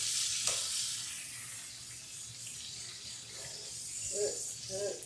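Steak frying in a pan, a continuous close sizzle and spatter with a short burst of louder crackle as the meat is turned, plus faint voice-like sounds near the end.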